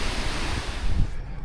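Fast-moving water rushes steadily through a stream in Wyoming's Shoshone National Forest, a broad, loud, continuous roar with some wind buffeting the microphone.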